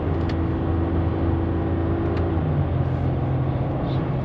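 A ZR2 with a 3.0 Duramax diesel pulls a 6000 lb trailer at full throttle on a Las Vegas highway. The close, loud engine drone holds steady, then drops in pitch at a gear change partway through, with no talking.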